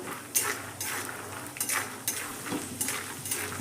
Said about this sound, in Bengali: এবার তেলের মধ্যে বাদামটাকে কিন্তু আমি ভেজে নেবো।